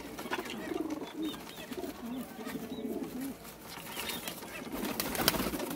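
Paired pigeons at a breeder's loft in Gujranwala coo softly and repeatedly, close by, with low rolling calls and some wing and shuffling noise in the background.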